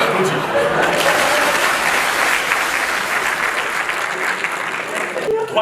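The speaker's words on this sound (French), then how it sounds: "On peut applaudir." Audience at a live stand-up comedy show in Stains breaking into loud, sustained applause that fills the whole stretch, steady clapping with crowd noise throughout and a brief fade at the end.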